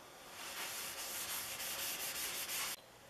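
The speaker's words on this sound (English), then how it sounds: "Sanding sponge with the grain. Finish it up with steel wool going with the grain." A sanding sponge or steel wool rubs a Stanley No. 129 Liberty Bell fore plane in steady, rhythmic back-and-forth strokes, a close, soft scratchy hiss that stops abruptly near the end.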